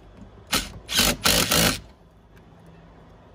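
Impact wrench tightening the battery terminals on a BMW 650i, a few quick close bursts of buzzing rattle in rapid succession, then quiet.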